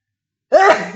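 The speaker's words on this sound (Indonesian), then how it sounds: "Maaf anak-anak, Bapak bersin." A male teacher gives one loud, close sneeze during a lesson, a sudden burst after near silence that tails off into a short breathy trail.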